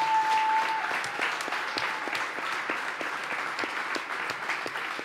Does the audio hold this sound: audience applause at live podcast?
yes